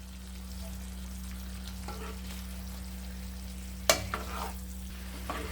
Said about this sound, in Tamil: இப்போது நம்ம பொரிச்ச சிக்கன் எல்லாத்தையும் ஆட் பண்ணிடலாம்.